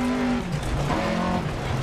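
Rally car in the Dirt Rally 2.0 racing game straining on a gravel stage in Spain, its engine droning and shifting pitch as tires slip, loud and continuous with no talk.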